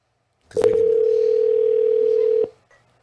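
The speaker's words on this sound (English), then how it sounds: "We're gonna call him like right back." A steady telephone dial tone holds for about two seconds, loud and unbroken, with a short click at its start and end and nobody talking.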